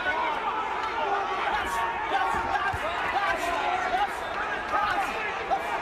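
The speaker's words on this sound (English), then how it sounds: "Crowd here, Belfast imploring their man to raise his game" The crowd at a boxing match in Belfast roars and shouts for their fighter, a dense, steady wall of voices with scattered louder yells, while a commentator talks over it.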